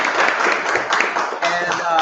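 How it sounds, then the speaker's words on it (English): A brief, close round of applause from a class audience for a student presentation, clapping loud and continuous over two seconds with voices mixed in. "All right, let's give Matthew a round of applause."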